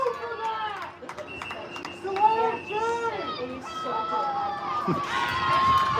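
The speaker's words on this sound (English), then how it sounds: "The crowd calling for a delay of game call after a long throw." Spectators at an ultimate frisbee game between Cleveland Riff and Chicago Prowl shout and call out together after a long throw, a busy mix of overlapping voices and cheers with a commentator talking over them.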